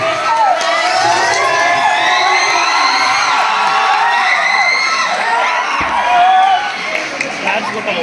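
A large crowd of schoolchildren shouts, whoops and cheers loudly and continuously at a school send-off ceremony at GHS Borabanda on a rainy July day, with overlapping high voices filling the whole stretch.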